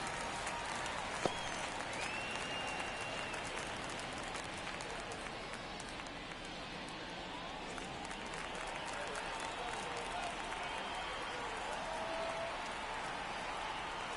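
Crowd noise from a baseball stadium in MLB The Show 24 in the ninth inning, a constant roar of cheering and applause that holds steady throughout beneath a commentator's voice.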